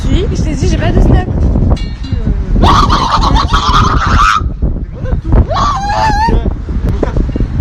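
A woman imitates a turkey gobbling with her voice, giving a loud warbling call in two bursts amid street noise and other voices.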